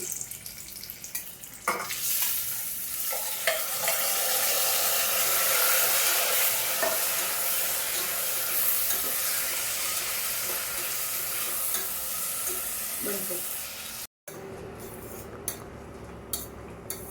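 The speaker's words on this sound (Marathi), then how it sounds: "त्यानंतर आपण धुतलेले तांदूळ घालून घेऊ." Loud, steady sizzling of washed rice with turmeric frying in a pan, with scraping and clinking of a spoon stirring through it; a brief cut near the end.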